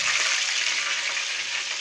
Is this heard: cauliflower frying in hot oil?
yes